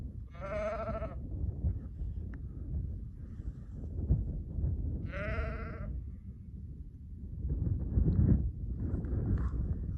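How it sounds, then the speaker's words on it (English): Sheep bleating outdoors in the Preseli Mountains of West Wales, two distinct bleats a few seconds apart over steady wind and rustling background noise. "So say hi to Nick the Sheep"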